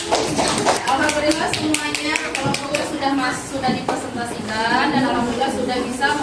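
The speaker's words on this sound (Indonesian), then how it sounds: "Beri tepuk tangan untuk kelompoknya Madinah" A primary school class claps for the Madinah group during an Islamic studies lesson, distinct sharp claps from a modest group of children, close and uneven, with a voice talking over much of it.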